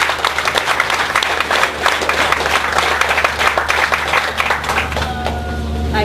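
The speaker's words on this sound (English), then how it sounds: "a big round of applause for Kathy Remington as she leads us in the P" Audience applause at a ceremony ahead of the Pledge of Allegiance, a steady wash of many hands clapping over a constant low hum, continuing for several seconds with a few tonal sounds near the end.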